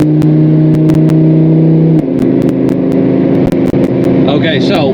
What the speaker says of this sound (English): I'm going to overtake these cars with 850 horsepower